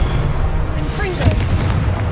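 Confringo blasting curse explosions in Hogwarts Legacy, a dense, loud, continuous booming barrage with a sharper crack about midway, with some game sounds layered over the roar.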